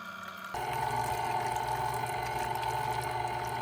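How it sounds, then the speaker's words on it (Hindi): Water is poured into a bowl of spice mix for chili potato paratha dough, a steady close trickle that starts suddenly after a brief quiet moment and then runs on evenly under a faint hum. "अब हम इसमें थोड़ा थोड़ा पानी डाल के मिक्स करेंगे।"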